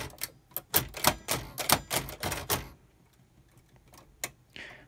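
Keys clack on a Hammond Multiplex typewriter with a type turret, in a quick uneven burst of sharp strikes that stops partway through, then a few faint mechanical clicks and a soft rattle.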